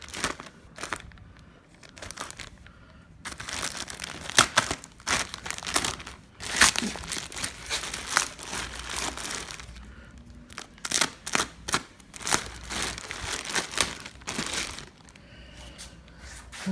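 Packaging for a Go Rhino stubby front bumper and Warn VR10S winch crinkles and tears in bursts of close, sharp plastic and paper rustling, with brief quieter gaps.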